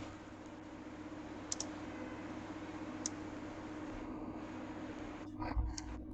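A computer mouse gives a few sparse, faint clicks at a desk, heard over a steady background hiss and hum.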